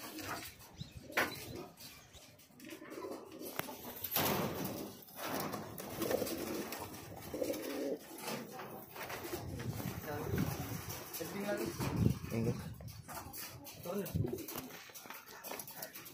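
Fancy pigeons, including white Australian birds, coo softly in a small enclosure, low murmuring calls scattered over a quiet background with handling noises and occasional louder thumps.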